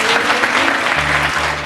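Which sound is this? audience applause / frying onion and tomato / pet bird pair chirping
audience applause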